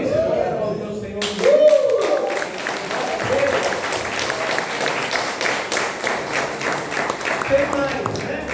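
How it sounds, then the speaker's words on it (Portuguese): Congregation applause at a healing and miracles church service, clapping swelling after a brief lull and continuing as a dense, busy patter with voices mixed in throughout. "Você pode aplaudir o Senhor."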